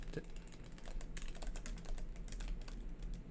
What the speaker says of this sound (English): So I'll just type here